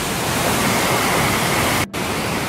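A waterfall at Baume-les-Messieurs in the Jura roars as a steady, dense broadband rush, loud and close, with a brief dropout near the end and no voices.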